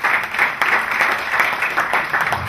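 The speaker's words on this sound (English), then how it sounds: "Please, let's give him a clapping ovation" An audience at a formal legal gathering breaks into steady applause, a dense patter of many hands clapping at close range for a couple of seconds, without speech.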